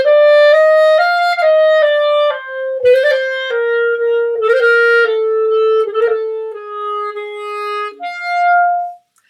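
Clarinet playing a WSMA honor band etude, with some grace notes placed right on the beat, in a clean, close solo line of connected notes and quick ornaments with no accompaniment or talking.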